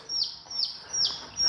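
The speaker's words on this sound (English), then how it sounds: "Check this little one out here. Little baby chicks." Baby chicks give repeated high, thin peeps, about four short chirps in quick succession, close and clear.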